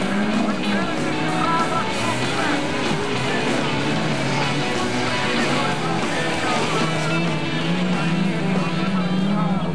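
A Tobago X autocross car runs hard around the track, its engine a loud, continuous roar that holds steady the whole time without letup.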